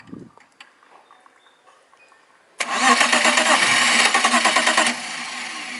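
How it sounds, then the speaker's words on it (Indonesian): A BMW E36 engine cranks on its starter during fuel pump fault diagnosis, a loud steady churning burst lasting about two seconds after a quiet stretch, then a fainter running tail. "kita coba starter sekarang"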